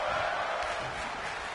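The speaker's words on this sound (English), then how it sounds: "Capacity crowd on their feet making some noise." A capacity crowd at a pro wrestling show cheers and makes noise, a loud, steady roar of massed voices filling the hall throughout the brief moment.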